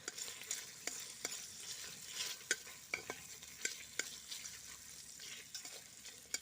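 Bacon sizzles in a hot frying pan of oil with a constant crackling hiss, broken by sharp clicks and scrapes of stirring at irregular intervals.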